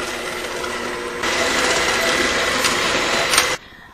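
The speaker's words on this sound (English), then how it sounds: "I'm going to beat that with an electric hand mixer for 7 minutes until it's nice and light and fluffy" An electric hand mixer beats frosting in a bowl, a steady loud whirring drone that steps up in intensity partway through and then cuts off abruptly near the end.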